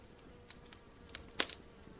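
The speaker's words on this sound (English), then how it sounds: "You hear buzzing." Buzzing insects like bees or wasps serve as a sound effect in The Last Story video game: faint scattered buzzes and ticks over a quiet hiss, with one louder sharp burst near the middle.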